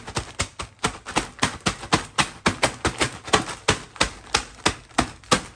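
Pork cracklings are crushed for rougail in a brisk, regular series of sharp pounding knocks, close and loud, around three per second.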